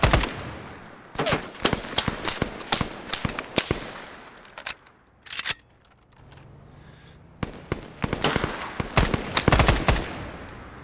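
Video game gunfire on the island of Altis: loud, sharp bursts of rapid automatic shots come in dense clusters, fading to a quieter lull in the middle before another heavy volley erupts near the end.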